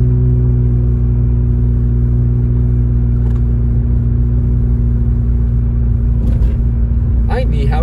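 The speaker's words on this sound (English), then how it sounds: "I'm driving with my damn knee." A car is driven through falling snow near Big Bear Lake, California. A continuous loud low engine and road rumble plays throughout, with a brief voice near the end.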